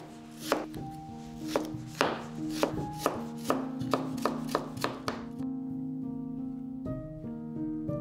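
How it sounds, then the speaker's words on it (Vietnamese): A knife chops vegetables on a cutting board in a steady series of crisp knocks, about one per half second, under soft background music with no talking. "sau đó cắt nhỏ ra như thế này ha"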